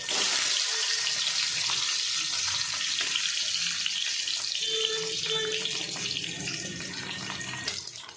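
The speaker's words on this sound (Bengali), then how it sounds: "সেগুলো আমি ভেজে নেব" Eggs frying together in a pan for an egg and soybean dish, a dense steady hiss and crackle of hot oil that runs without a break and eases off slightly toward the end.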